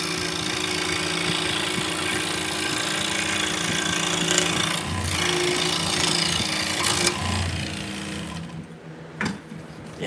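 Power tool cutting wooden Turkish spindle parts, a continuous whirring buzz with grinding texture that dips and surges, then briefly stops near the end with short bursts after.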